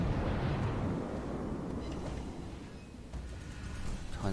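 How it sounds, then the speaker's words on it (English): Secondary guns of a Gangut battleship fire in World of Warships, a dense rolling boom and rumble that lasts throughout, with a few sharper cracks toward the end. "My secondaries are shooting toward me."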